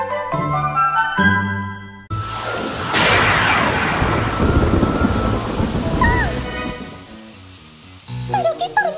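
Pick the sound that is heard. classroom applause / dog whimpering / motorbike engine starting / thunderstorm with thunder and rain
thunderstorm with thunder and rain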